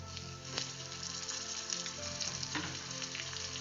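Tamarind pieces dropped into hot oil for a quick pickle, sizzling and crackling steadily and close up, with a few sharper pops and the scrape of stirring, no voices.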